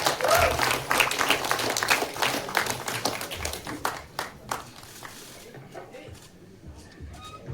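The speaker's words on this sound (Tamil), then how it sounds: "ஒரு அழகான ஒரு கைத்தட்டங்களோட வெல்கம் பண்ணலாம்." Applause welcoming Anand Babu at the Vanakkam Pannaiyar film audio launch, a loud burst of many hands that thins out and fades over the second half, leaving a few scattered claps and faint room sound.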